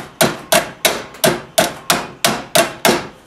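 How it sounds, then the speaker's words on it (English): A hammer strikes ductwork on a woodworking dust collector while the pieces are joined, nine sharp, evenly spaced, ringing blows, close and loud, with no talking. "and then hammer the other side."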